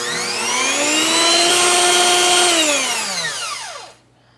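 Electric mixer whisking meringue for a chocolate soufflé, a steady loud whine that rises slightly, holds, then falls in pitch as the motor spins down and stops abruptly near the end.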